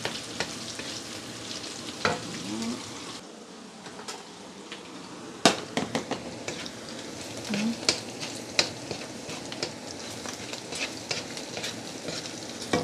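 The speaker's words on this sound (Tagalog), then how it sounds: "Gigisa na natin yung sibuyas tsaka bawang." Onion and garlic sauté in hot oil in a pan, a steady sizzle broken by scraping stirs and sharp metallic knocks of a utensil against the pan, close and loud with no talking.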